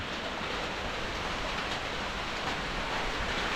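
Rain falls steadily in a forest, a dense, even hiss that holds at the same level throughout with no voices.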